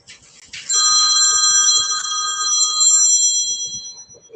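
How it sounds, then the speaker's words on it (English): An old-style telephone bell rings loud and steady for about three seconds, its bright metallic trill starting abruptly and fading out, with faint background murmurs beneath. "I believe your old school phone ring loud and clear"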